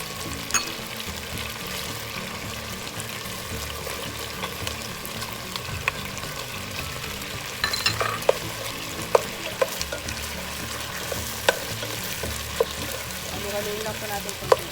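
Garlic and chicken sizzle steadily in a pan while being stirred for Filipino chicken pochero, a continuous frying hiss with small scraping clicks from the utensil throughout.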